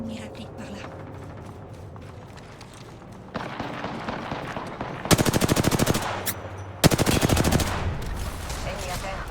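Automatic weapons fire in the video game Apex Legends, heard as rapid bursts of shots that grow louder midway, with background game sounds throughout.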